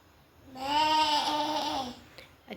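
A child imitates a goat, giving one drawn-out, wavering bleat of about a second and a half, close and fairly loud, followed by a faint click.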